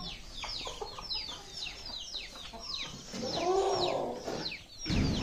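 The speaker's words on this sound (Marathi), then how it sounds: "आता कोंबड्या सोडूया, पहिल्या लहान पिल्लांना सोडूया." Several free-range village chickens and chicks cluck and squawk nearby in quick, overlapping calls, with one louder, longer call rising near the end.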